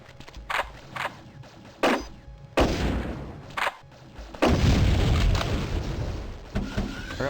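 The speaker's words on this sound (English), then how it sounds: "Oh, something's shooting. Ah, turrets." Turret gunfire in the video game Terminator: Future Shock: several separate sharp shots, then a sustained heavy rumbling barrage of blasts, loud and close.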